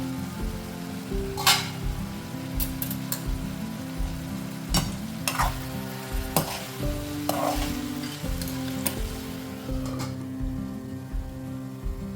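Aloo gobhi, a cauliflower and potato curry, cooks on low heat in a pan, giving off a steady close sizzle. It is broken by repeated scraping stirs at an uneven rhythm, with no talking.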